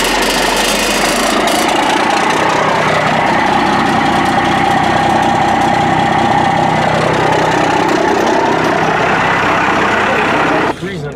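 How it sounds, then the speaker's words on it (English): A 1996 Dodge Cummins diesel truck with an axle dump exhaust runs loud and close, a heavy rumbling idle that holds steady throughout and clatters slightly, with a voice speaking over it. "Today we're gonna be axle dumping my best friend's Cummins."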